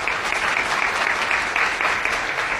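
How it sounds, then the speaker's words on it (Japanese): An audience at a political rally in Okinawa claps steadily, a dense, sustained round of applause filling the room. "どうぞ皆様お二人にも拍手をお願いします"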